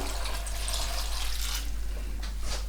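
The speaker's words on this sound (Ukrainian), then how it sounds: "І заливаю водою" Water pours steadily into a pot of washed honey mushrooms for a few seconds, a continuous splashing rush over a low electrical hum.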